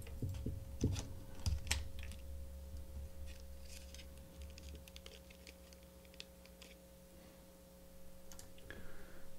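Small plastic pieces of a ShengShou clock puzzle click and tap while the shell is lubed, scattered sharp clicks, a burst early and then sparse ticks over a quiet hum.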